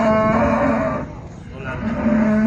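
Cows at a livestock market moo loudly and close, in two long, drawn-out lows with a short dip between them.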